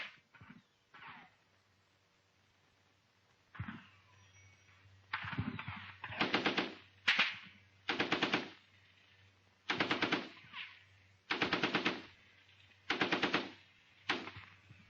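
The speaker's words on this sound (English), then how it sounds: "The 2-inch mortar is ranging with HE." A 2-inch mortar in a platoon attack ranges with high explosive rounds, heard as a series of sharp, loud reports in fairly regular succession over a low background hum.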